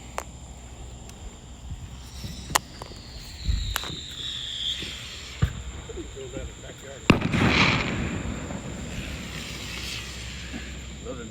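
Fireworks set off on the Fourth of July, 2024: sharp bangs spaced a few seconds apart, with one heavier burst followed by a crackling hiss, heard at a distance amid outdoor night ambience.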